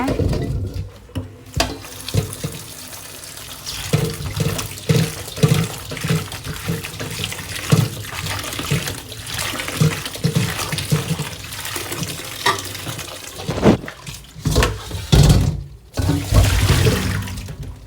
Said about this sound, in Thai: แล้วก็ล้างอีกสักสองน้ำนะคะ